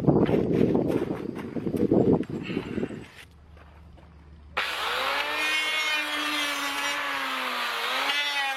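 A powerful saw with an ill-suited finishing blade forces its way through green wood, a steady loud whine with shifting harmonics that starts abruptly after some footsteps and handling noise, running on under the strain.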